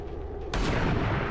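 A gunshot in the turn-based strategy game XCOM 2, aimed at a Viper: a sudden loud blast about halfway through, then a heavy, sustained rumbling tail, with no talk over it.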